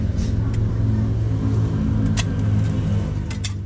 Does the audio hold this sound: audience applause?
no